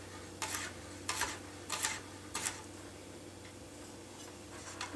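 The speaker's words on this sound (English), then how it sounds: "So you're just going to cut uniform pieces straight down into thin slices." A chef's knife slicing straight down through food into thin uniform pieces on a cutting board, giving four evenly spaced crisp taps, close and fairly quiet, with no voices.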